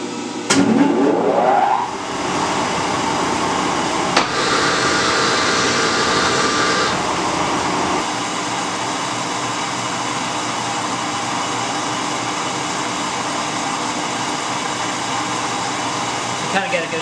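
A metal shaper cuts across the surface of Fireball tool squares, a loud steady mechanical drone and whir with a brief clank near the start and a slight drop in level partway through.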